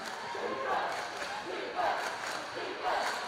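High school boys varsity basketball crowd in a gym chanting and cheering for a defensive stop, rising in rhythmic swells, fairly faint, with a ball bouncing underneath.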